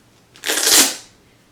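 Velcro straps on walking shoes being pulled apart in a single quick ripping tear of about half a second, close and fairly loud, with no talking over it.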